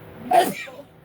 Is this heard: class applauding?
no